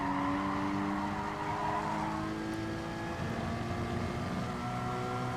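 Gran Turismo Sport race car sliding sideways on worn tyres, a continuous loud engine drone with a scrubbing squeal held steadily throughout.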